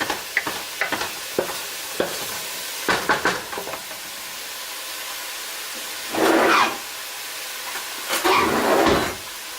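Onions saute in a pan, a spoon scraping and stirring in quick bursts between quieter stretches, with two longer sizzling pushes near the end, close and clear.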